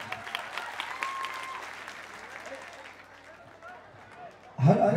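An audience at a stage show in Patna claps, with applause rumbling under an amplified voice and then swelling into a loud crowd burst near the end.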